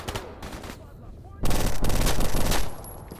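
Mac 10 submachine gun in a video game firing one long, loud, rapid automatic burst after a stretch of softer background noise and scattered distant shots.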